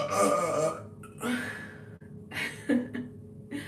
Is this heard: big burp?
yes